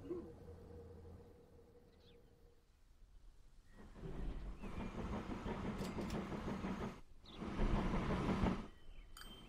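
A bigger train pulls in during a Transport Fever 2 rail game. Its faint, low rumble swells from a quiet hum into a sustained rolling drone, rising once more near the end.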